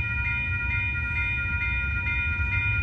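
The Amtrak Coast Starlight passenger train, led by a P42DC locomotive, rumbles past a road crossing, with steady horn-like tones held over a low, continuous rolling noise.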